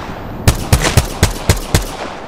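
Six sharp gunshots from an Apex Legends weapon ring out in a quick, evenly spaced sequence, loud and close, each with a brief tail.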